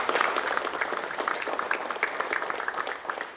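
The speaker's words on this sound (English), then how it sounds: "let's give them a round of applause" At a school board meeting, the audience claps for track and field athletes who qualified for the state meet, a moderate round of many hands with distinct individual claps that tapers slightly toward the end.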